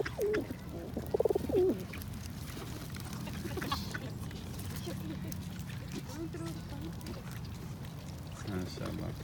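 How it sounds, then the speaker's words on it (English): Pigeons or doves coo softly at a park lake while being fed, under a constant wash of outdoor background noise, with a brief louder call early on. "See these birds?"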